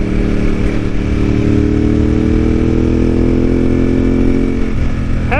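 A motorcycle rides along Hakone Turnpike in Japan, its engine a steady, loud drone with rising pitch as it accelerates, then a brief shift near the end.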